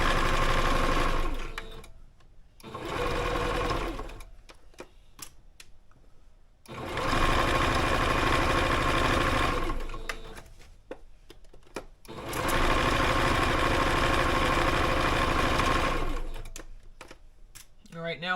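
Sewing machine stitching fabric in three long sustained runs of steady whirring and needle chatter, separated by brief pauses, close and loud.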